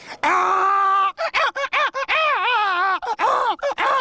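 A human voice imitates a young donkey's braying call, a series of strained, wavering cries broken by sharp gasps.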